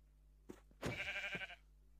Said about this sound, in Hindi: वो तो बकरी दिख रहा है तो बकरी को मार के देखते हैं